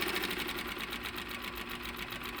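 A sewing machine stitching a leather journal cover runs steadily and close, with a fast, even mechanical chatter of stitches and a constant motor hum throughout.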